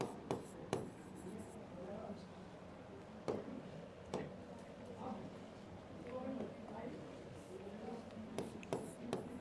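Pen or marker scratches out math functions for a Class 12 inverse trigonometry lesson, with soft irregular strokes and sharp taps at the start and finish of each stroke, faint and close, while a teacher talks over them.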